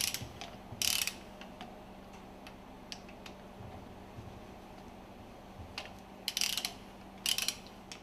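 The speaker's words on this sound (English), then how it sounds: "Loosen and remove the screws from the plunger and barrel assembly" A ratchet works on the screws of a fuel pump's plunger and barrel assembly, giving a few short bursts of clicking spread across a quiet background, with one burst near the start and a couple more toward the end.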